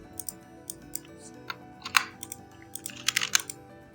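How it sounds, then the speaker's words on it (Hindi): Light keystrokes on a computer keyboard entering an email address, irregular clicks and short quick runs of taps, close and fairly quiet, with no talk. "अब ईमेल के अंदर आप अपनी ईमेल जो है वो टाइप कर सकते हैं"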